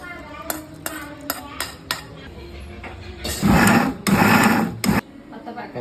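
A mixer grinder whirs in two loud bursts while grinding mutton special masala, preceded by clinks and taps of utensils in a home kitchen.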